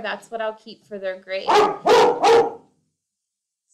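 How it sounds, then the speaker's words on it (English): A pet dog barks about three times in a quick run, loud and close, right after a woman's speech in an indoor setting; the barks come in successive bursts and then stop, leaving silence. "Sorry, that's my dog"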